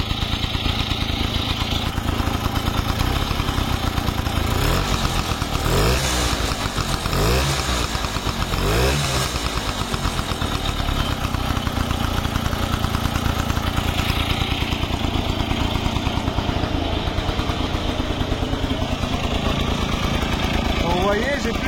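An old, freshly restored engine started by kick runs and idles steadily throughout at a constant buzzing pitch, with someone speaking over it.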